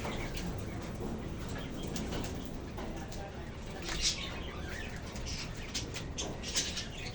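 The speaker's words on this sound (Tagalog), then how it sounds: "ito yung alaga kong kalapate" A pet pigeon that is still laying eggs, handled near the camera in a rural setting, with soft intermittent cooing and a few brief wing flutters over a steady background hum.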